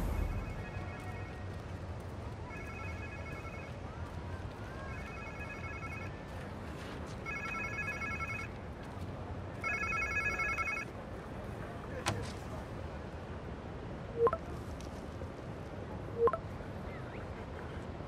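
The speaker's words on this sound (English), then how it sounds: "Sounds like somebody's phone." A phone rings in repeated bursts in the video game Spider-Man 2, a regular electronic trill over a low steady rumble, then stops, leaving a few faint clicks.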